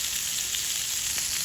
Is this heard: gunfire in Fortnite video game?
no